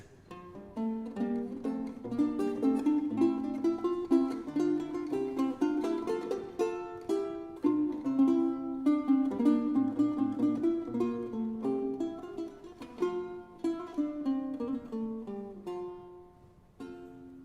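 A lute plays a quick, ornamented melody of plucked notes from tablature with trills and flourishes, steady and intimate, with no voices.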